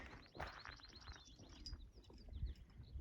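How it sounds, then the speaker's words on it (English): Birds singing on a sunny morning along a mountain trail near Mount Baden-Powell on the Pacific Crest Trail, with scattered chirps and short whistled calls over faint rustling and low background noise. "The birds are singing."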